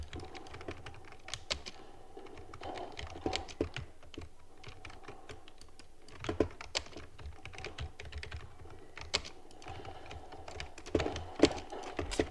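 Computer keyboard and mouse clicks rattle steadily in quick, uneven bursts while someone games on a console, the keystrokes close and fairly quiet, with no talking.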